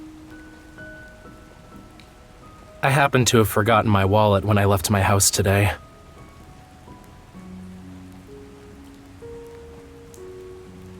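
Steady rain falls in the Love and Deepspace game scene, a soft continuous patter with someone speaking over it partway through and quiet music tones underneath.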